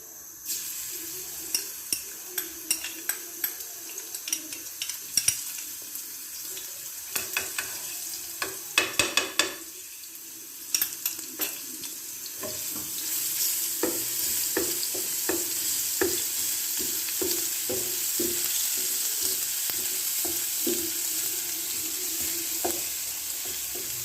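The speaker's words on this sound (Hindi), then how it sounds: "तो जी अभी तेल तो गर्म हो गया। तो अभी इसमें हमने ये प्याज डालनी है।" Chopped onion goes into hot oil for a moong masoor dal tempering, to be browned: sharp utensil clicks and taps at first, then a continuous close sizzle with stirring scrapes.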